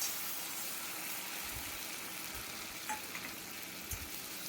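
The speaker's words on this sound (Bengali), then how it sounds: "দেওয়ার পরে সরষা বাটা আর কাঁচা লঙ্কা বাটাটা দিয়ে দিলাম।" Mustard paste and green chilies fry in hot oil for shorshe ilish, a continuous close sizzle with a few soft stirring knocks, and no talk.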